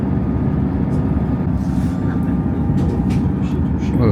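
A train running on the East Coast main line, heard from on board as a steady, loud low rumble and rolling hum that continues unbroken throughout.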